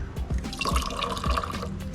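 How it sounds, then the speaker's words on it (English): Running water pours from an outdoor sink in a dirty kitchen in the Philippines, fed by a low-pressure water system, with a steady splashing and bubbling fill heard close. "not super high pressure, but it still has running water"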